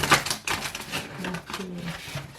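Playing cards are shuffled in quick rustling bursts, close up, with a voice murmuring briefly underneath.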